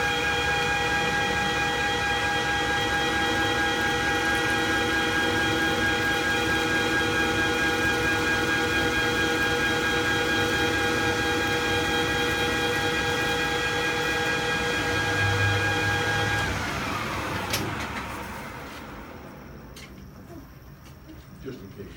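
A machine tool in a machining lesson runs at 1200 RPM with a loud, steady whine of layered tones and a broad mechanical rumble, then spins down and fades toward the end.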